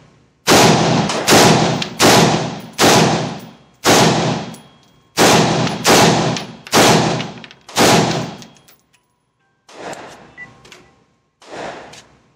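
A pistol fires an entire magazine at night with a weapon light mounted, producing about ten loud, sharp reports in a steady cadence, each followed by a brief ringing decay, with the last few shots sounding quieter.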